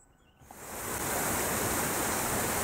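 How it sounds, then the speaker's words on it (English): A waterfall on the North Yorkshire moors rushes as a steady broadband roar, rising from near quiet in the first half second to a loud, constant wash that fills the rest of the clip with no voices. "there's a waterfall there"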